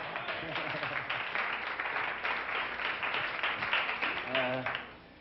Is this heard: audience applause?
yes